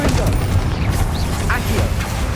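Fire spell explosions in Hogwarts Legacy, a dense rumbling of booms and crackling blasts that runs the whole time with a few whooshing magical tones, loud and close, while a voice calls out over it.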